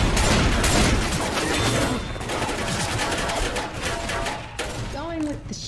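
Shotgun blasts and surrounding gunfire in the zombie shooter Left 4 Dead 2 come as loud, dense, overlapping bursts that ease slightly toward the end, with players talking over the action.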